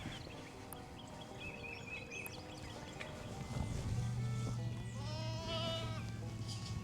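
Sheep and goats bleat on a farm, several calls overlapping at moderate distance, with a low steady hum and faint background activity.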